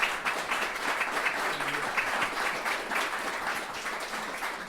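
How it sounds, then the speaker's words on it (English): An audience at a political event breaking into a steady wave of applause, dense clapping that holds at an even level throughout. "Charlie Sykes deserves a huge round of applause."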